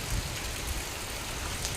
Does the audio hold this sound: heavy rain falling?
yes